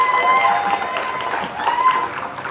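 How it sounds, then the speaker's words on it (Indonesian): Studio audience applause on a TV talk show, a busy wash of clapping with crowd noise and a voice speaking over it. "Tepuk tangan lagi dong, sekali lagi dong,"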